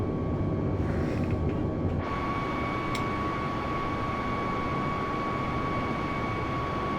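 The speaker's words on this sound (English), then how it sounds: "And the plane is just flying itself down now to the runway for us." Steady, loud roar of an Airbus A320neo descending toward the runway in Microsoft Flight Simulator 2020, with a constant engine hum and a tonal whine running throughout.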